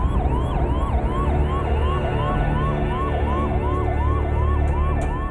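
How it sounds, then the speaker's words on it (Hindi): Ambulance siren wailing loud and close in a rapid, repeating rising-and-falling pattern, steady over traffic rumble. "अचानक हमें एम्बुलेंस के सायरन की तेज आवाज सुनाई दी"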